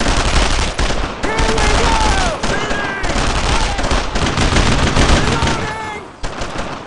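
Sustained gunfire in the WWII shooter Brothers in Arms: Road to Hill 30, dense rifle and machine-gun bursts crackling nearly nonstop with brief lulls, while shouted voices call out over the battle.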